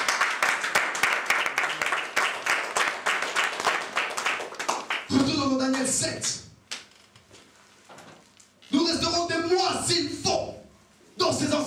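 A church congregation bursts into loud, rapid applause for several seconds, then someone speaks in French and the clapping briefly returns near the end.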